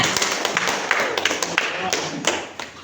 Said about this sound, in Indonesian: beri tepuk tangan kepada peserta